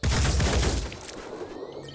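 A burst of rapid gunfire in the video game Blood and Titanium, loud and dense at first and then trailing off into a fading, echoing tail over about two seconds.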